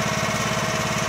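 A new Duromax XP13000E generator idles after its first startup, a steady close engine drone with a fast, even low pulsing throb and no talk.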